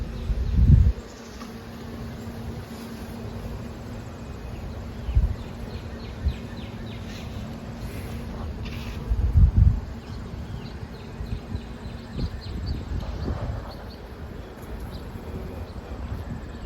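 Honey bees buzzing around an open hive, a soft continuous hum with scattered nearby insect buzzes and a few muffled bumps and handling noises.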